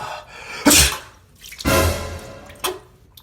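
Three sharp sneezes spaced about a second apart, loud and close, each a sudden burst of breathy noise over a quiet background.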